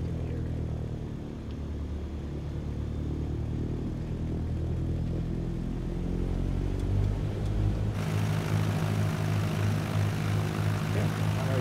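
A small propeller airplane takes off from an uncontrolled island airport, its engine droning steadily and then surging louder to takeoff power partway through, close and continuous inside the cabin.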